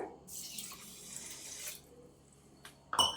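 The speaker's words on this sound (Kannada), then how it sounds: "ಇದರಲ್ಲಿ 1 ಬಟ್ಲು ನೀರನ್ನು ಹಾಕ್ಕೊಳ್ಬೇಕು" Water poured into sugar to make sugar syrup for Mysore pak: a steady splashing pour for about a second and a half, followed by quieter handling and a sharp clink near the end.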